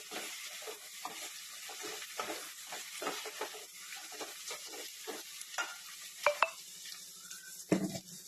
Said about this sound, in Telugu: ఇక పోపు చేస్తున్నా